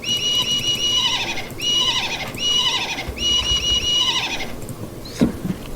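A horse whinnies in four repeated bursts, loud and close, each a high wavering neigh, followed by a short sharp knock at the end.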